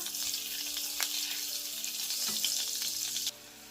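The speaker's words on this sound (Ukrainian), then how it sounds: "Посмажимо котлети із хитростями. До олії додаємо ще й вершкового масла." Zucchini cutlets fry in a pan of vegetable oil with added butter, giving a steady close sizzle and crackle with scattered pops throughout, dropping quieter near the end.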